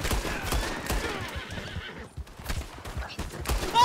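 Horse whinny and galloping hooves in Red Dead Redemption 2, a rapid clip-clop rhythm running throughout with a sharp neigh near the start, fairly close and loud, no talk.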